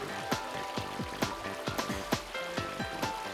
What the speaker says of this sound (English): The force of the water on the blades turns the turbine to generate electricity.